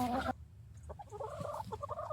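Backyard hens cluck softly in a short, faint burst of several calls after a brief louder noise, heard nearby in wintry weather.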